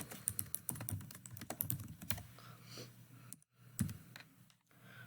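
Name typed on a computer keyboard, rapid close key clicks in an uneven burst, then a pause and a few scattered taps, all fairly quiet.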